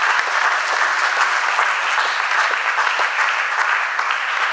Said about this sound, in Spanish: Haz un fuerte aplauso.